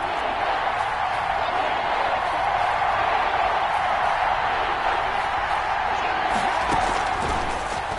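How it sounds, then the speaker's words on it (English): A stadium crowd in a Madden football video game gives a continuous, loud roar of cheering ahead of a big third down, swelling steadily and evenly across the whole stretch. "the crowd getting into it as we come up on a big 3rd down"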